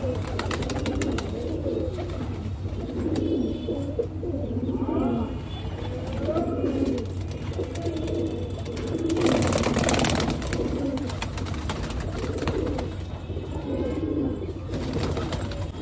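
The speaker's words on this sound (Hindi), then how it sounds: "अब कबूतर पैराफिट के ऊपर आके बैठे" Pigeons perched on a building parapet coo repeatedly in low, soft calls, fairly close, over a steady background hum with faint distant noise.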